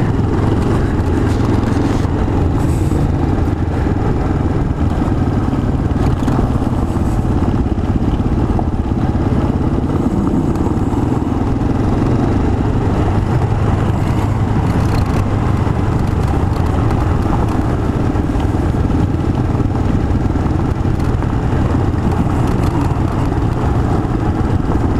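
A Honda XR650L dual-sport motorcycle engine-brakes on a forest trail in Cherokee National Forest, Tennessee, a continuous low engine drone with rough clatter and wind noise running steadily throughout, loud and close.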